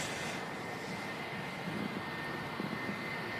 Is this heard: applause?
no